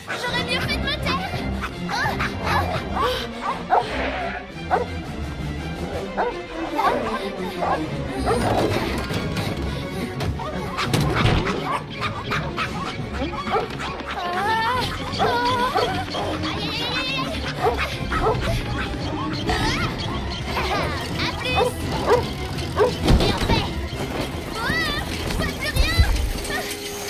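A dog barking repeatedly amid crashes and thwacks in a busy animated scene, with voices, including a child's, talking over it throughout.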